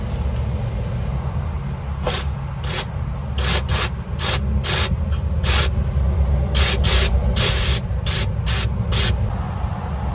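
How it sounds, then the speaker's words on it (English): Carburetor cleaner sprays through a clogged fuel line in a series of short, sharp hissing bursts, some quick and clustered, some spaced apart, over a steady low background hum, close and fairly loud. "I'm going to spray some carburetor cleaner through the line"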